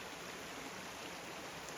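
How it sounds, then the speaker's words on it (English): A small creek beside the Appalachian Trail rushes in a steady, soft, even wash of flowing water, with no voices over it. "Right along this little creek we just crossed."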